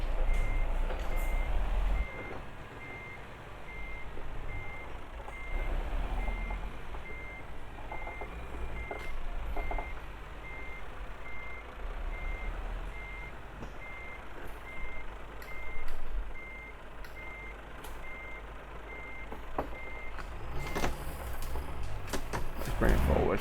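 A truck in Euro Truck Simulator 2 reverses and manoeuvres, its reversing alarm beeping in a steady, evenly spaced pulse throughout over a low engine rumble, with a few brief clunks and a hiss of air near the end.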